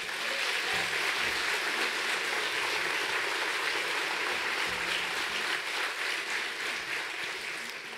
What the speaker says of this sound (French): je vous demande de les soutenir et de les applaudir